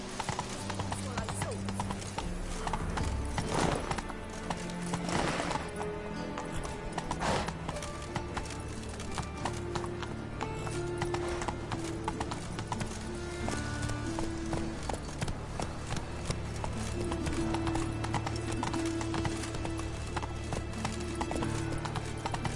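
Roach the horse's hooves clip-clop steadily in a video game, a continuous rhythmic walk under a dense bed of game music and ambience, with a brief whinny near the start and occasional voices.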